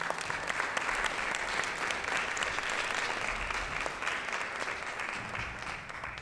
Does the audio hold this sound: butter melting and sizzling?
no